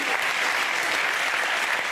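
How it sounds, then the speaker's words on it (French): Theatre audience at Le Funambule Montmartre applauding, dense continuous clapping from a full room, even and sustained with no voices standing out. "Merci, on peut les applaudir."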